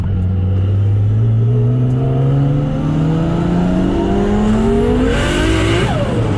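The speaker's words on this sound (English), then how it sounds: "When second gear really opens up. It pulls hard to the left." A 900 hp Nissan R32 Skyline GTR accelerates hard in second gear, its engine note climbing steadily and loudly from inside the car before easing near the end.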